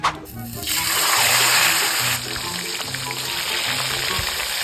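Tilapia frying in hot oil gives a loud, dense sizzle that flares at the start and then holds steady, with faint low background sounds underneath.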